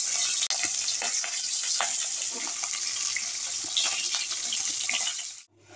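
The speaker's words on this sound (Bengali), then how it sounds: "তো হয়ে গেলে দেখো মাছগুলো একটু ভেজে নেব" Fish pieces frying in hot mustard oil in a kadai give a loud, steady, hissing sizzle with scattered pops and crackles throughout, tapering off sharply at the very end.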